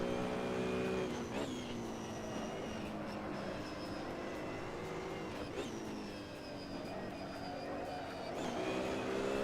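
A race car engine in the racing simulator Assetto Corsa roars and whines through repeated gear shifts, pitch climbing then dropping sharply, loud and continuous with no talking.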